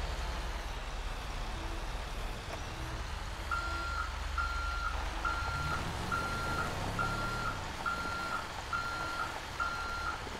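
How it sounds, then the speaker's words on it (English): A truck reversing in the video game GTA 5 roleplay emits a steady series of evenly spaced electronic beeps over a low engine idle and road-like rumble, with no talking. "Okay, so I'm gonna move my truck."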